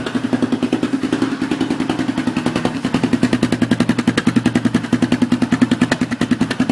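Polaris Sportsman 500 ATV engine running slightly rich after carburetor rejetting, a close, steady, rapid-pulsing idle with a throaty, uneven putter that runs continuously on its own.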